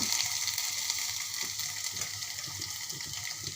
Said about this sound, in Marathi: एक बारीक चिरलेला टोमॅटो घालूया